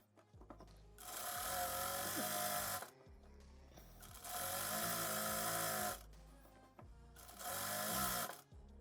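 A sewing machine stitches a gathered dress hem in three sustained runs of fast, whirring needle action, each broken by a short pause, close and clear with no talking.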